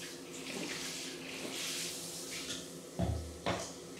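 Water from a shower head sprays against a glass shower screen, a steady hiss with two sharper bursts of spray near the end as the jet is aimed higher.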